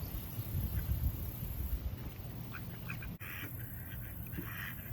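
Ducks quacking at a lake while camping at Inks Lake State Park, several short calls scattered through the clip over steady wind noise, with a louder burst of quacks near the end.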